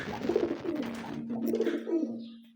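Pigeons coo nearby in low, rolling bursts, two or three throaty calls repeating over a steady background hum.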